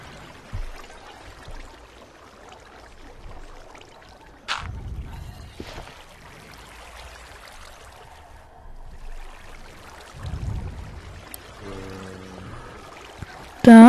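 Faint, soft trickling and splashing water in Minecraft Java Edition 1.16 on a phone runs in the background, with a few louder sloshes and brief electronic blips near the end.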